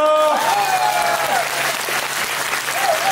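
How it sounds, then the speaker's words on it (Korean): An audience applauds at a talk concert in Mapo, a steady wash of clapping that fades slightly while tonal sounds and a low hum sit underneath. "여러분 다시 한번 큰 박수로 우리 조정원을 격려해 주십시오"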